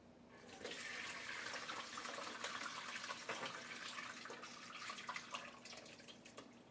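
Turkey juices pour steadily through a strainer in a continuous splashing stream for several seconds, close by, with a faint trickle and drip toward the end.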